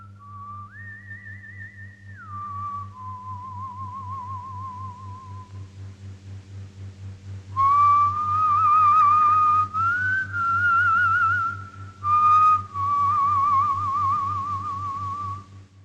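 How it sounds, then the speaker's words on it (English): A lone melody whistled clearly in the 1976 film The Double Crossers, with sliding and wavering held notes in a slow tune over a low steady hum. "the whistling thing, the kind of the tune that Lung's father would whistle"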